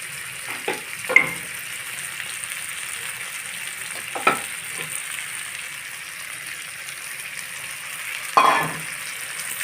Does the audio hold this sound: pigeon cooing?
no